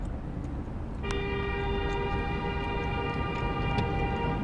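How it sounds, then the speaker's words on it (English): A vehicle horn blares on a busy road next to a long bus, held as a steady tone for several seconds over continuous traffic rumble, with a short sharp blip near the end. "This motherfucker honking at me"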